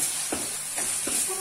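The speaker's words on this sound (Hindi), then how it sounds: "टमाटर डाल के हमने इसे मिक्स कर लेना है।" Tomatoes being stirred into dal cooking in a pan: a steady sizzling hiss with three or four soft scraping stirs spaced about half a second apart, close and fairly quiet.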